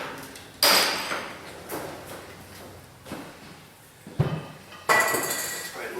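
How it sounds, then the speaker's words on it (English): Pneumatic air ratchet spinning out old rusty bolts on a Dodge Grand Caravan 3.8 during an engine swap, heard as several sharp bursts separated by quieter clanks and handling noises in a workshop. "Can actually stick the air ratchet on that."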